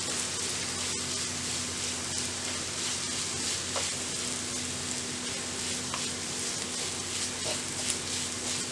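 Crushed coconut being stirred into mussel thoran (kallumakkaya) in a hot pan, giving a steady, close sizzle with faint scraping of stirring throughout and no voices.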